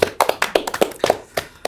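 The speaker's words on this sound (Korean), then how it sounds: "박수 한번 보내주세요" Studio applause from a small audience on a Korean political talk show: a few scattered, sharp claps and taps in an uneven rhythm, fairly close and moderately loud, with no talking.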